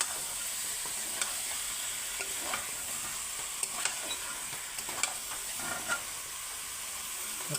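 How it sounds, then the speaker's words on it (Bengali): Chicken and potatoes being stirred in a pan with spices, a steady close sizzle and hiss with scraping spoon strokes and small clatters throughout, no voices. "তারপর মাংসগুলো সব দিয়ে দেবো, ভালো করে লাড়িয়ে কষিয়ে মশলা লাগিয়ে নেব মাংসগুলি।"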